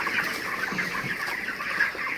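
Chickens about four weeks old, raised for meat on a poultry farm, cluck and chatter steadily as a dense flock, a continuous mid-level murmur of overlapping calls with no talk.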